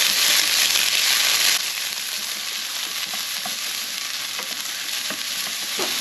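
Onions fry loudly in a pan with a dense, steady sizzle that eases a little after a moment and carries on under occasional light scrapes and crackles, close to the mic with no talking.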